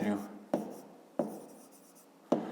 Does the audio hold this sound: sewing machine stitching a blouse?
no